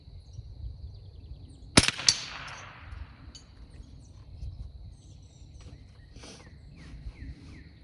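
A single sharp rifle shot from a small-bore target rifle firing CCI standard velocity ammunition, one loud crack followed by a short ringing tail, then quiet outdoor ambience with faint birdsong.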